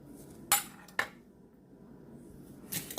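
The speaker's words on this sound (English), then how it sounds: "And then you just want to mix it with your fork, add a little bit more." A fork scrapes and clinks against a bowl while mixing gravy and flour into a slurry for crockpot black-eyed peas, with two sharp nearby clinks early on and a softer scrape near the end against a quiet kitchen background.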